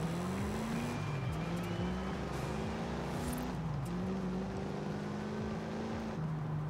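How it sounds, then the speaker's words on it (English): A Dodge Charger R/T V8 in Forza Horizon 5 drones steadily through repeated gear shifts, its engine note rising and dropping a few times as the car drives, loud and alone. "Hopefully it sounds like a good V8."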